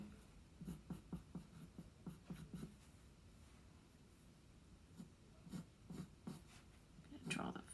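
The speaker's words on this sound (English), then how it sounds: "Now I'm going to go back and draw that little wrinkle." Pencil sketching on paper, drawing a small wrinkle on an elephant's trunk: soft rhythmic scratchy strokes in quick bursts, close and quiet, with pauses between groups of lines.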